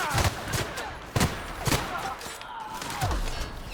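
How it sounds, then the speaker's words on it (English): A hand cannon fires three-round bursts during combat in the Outer Worlds video game, sharp repeated cracks and thuds amid ongoing battle noise. "it's a hand cannon and it's a 3-round burst"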